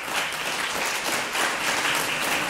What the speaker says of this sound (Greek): ο κύριος Τακίρης που άρχισε να χειροκροτεί